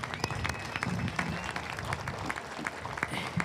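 A crowd claps steadily at a high school ribbon-cutting ceremony, a dense, even wash of applause with scattered sharper claps that holds at the same level throughout, with no one speaking over it.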